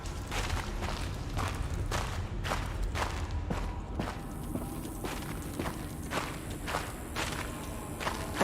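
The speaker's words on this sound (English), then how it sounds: "Very present footstep sound." Footsteps in the video game Paradise Lost, a steady series of close, loud, evenly paced steps continuing throughout over a faint background hum.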